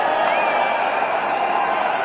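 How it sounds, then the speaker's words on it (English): A large cricket stadium crowd in Mohali roars continuously after a boundary in a one-day international, a dense, steady wash of cheering with faint whistles, loud and sustained throughout. "The crowd finally getting into it."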